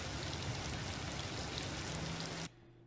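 Steady, dense added rain sounds hissing across the whole clip, cutting off abruptly near the end to a quiet low hum.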